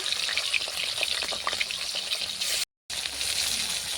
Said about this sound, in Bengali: ভালো করে নুন মাখানো মাছগুলোকে ভালো করে লাল লাল করে ভেজে নেব